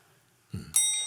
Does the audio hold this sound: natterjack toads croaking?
no